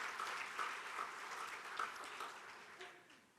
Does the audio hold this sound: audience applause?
yes